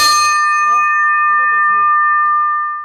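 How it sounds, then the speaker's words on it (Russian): Bell signalling readiness before the start of a sailing regatta, one loud metallic strike ringing with a long sustained tone, while a voice speaks over the fading ring. "Звук колокола означает готовность номер один."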